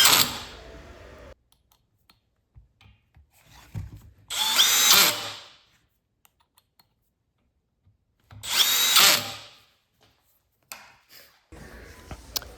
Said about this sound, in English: And now I'm just tightening the screws.